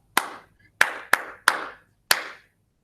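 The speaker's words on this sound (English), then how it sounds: "let's sing that in our brains and clap the rhythm." A second-grade class claps a short rhythm in unison during a music lesson: five sharp, close claps in an uneven pattern, with a brief gap before the last one and quiet between them.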